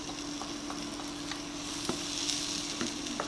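Julienned peppers and garlic sizzle in a hot pan, a soft steady hiss of frying with occasional faint pops and light clicks, quiet and continuous throughout with no one speaking.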